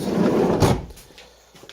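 A door creaks open and thumps shut, a close rumbling swing followed by a sharp knock, then the sound quickly fades to near quiet.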